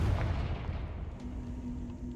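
A Confringo explosive spell blast in Hogwarts Legacy lands as a deep, rumbling boom that hits hard at the start and then rolls on as a dense, noisy decay.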